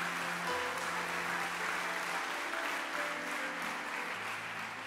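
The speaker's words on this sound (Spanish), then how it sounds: "Den un aplauso a Jesús." A church congregation applauds for Jesus in a continuous, moderately faint roar of clapping, with sustained musical tones humming underneath.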